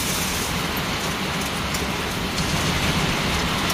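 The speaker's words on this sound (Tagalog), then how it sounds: "Lakas ng ulan." Heavy rain pouring down steadily, a dense, loud, continuous hiss of drops striking surfaces with no break and no voices over it.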